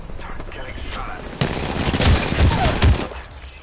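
Video game gunfire in a competitive shooter match, a muffled burst of rapid shots rising after a quiet start, with several heavier thumps near the end.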